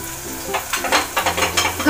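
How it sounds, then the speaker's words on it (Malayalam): Masala for mutton curry sautés in a pan, a loud close sizzle with rhythmic stirring strokes scraping through it, no voices. "നന്നായിട്ട് വഴറ്റി കൊടുക്കുക"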